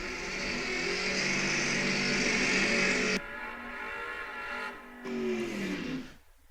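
A drag race car with a 445 cubic inch Windsor engine, in a 1966 Mercury Comet, roars loudly at a drag strip, its engine note sustained and then cutting back abruptly, followed by further revving bursts fading away.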